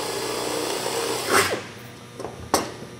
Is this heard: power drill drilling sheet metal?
yes